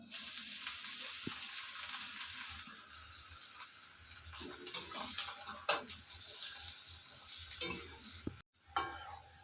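Chopped garlic sizzles in butter in a pan for palak paneer, a steady bright frying hiss broken by scrapes and clicks of a stirring spoon, close and fairly soft with a brief break near the end.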